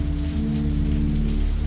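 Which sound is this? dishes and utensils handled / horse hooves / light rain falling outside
light rain falling outside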